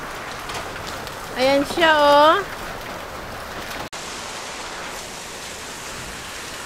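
Hail pelts a car during a strong Brisbane summer storm, a dense steady roar of impacts throughout, with a person briefly speaking and exclaiming partway through.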